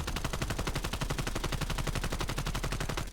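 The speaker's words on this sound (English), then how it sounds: "I'm gonna shoot at this wall right here and see what we got going on here" Sustained full-auto AK74u fire into a wall in Call of Duty Cold War, a rapid, steady stream of loud, close gunshots that runs unbroken for about three seconds with no talking.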